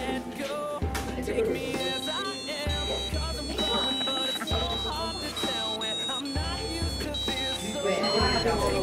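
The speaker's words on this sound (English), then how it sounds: "The Piezo Sounder happy birthday would play the happy birthday tune once the button is pressed on the robot." A piezo sounder on a PICAXE robot plays the happy birthday tune as a sequence of thin electronic beeping notes, with a person talking over it.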